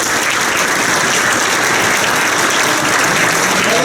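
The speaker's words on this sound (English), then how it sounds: "I'm okay with giving them another round of applause." A theater audience at a dinner-theater show gives a continuous round of loud applause. The clapping is dense and steady, close and full throughout, with no pauses.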